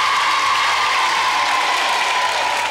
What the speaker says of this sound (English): All right, give her a round of applause.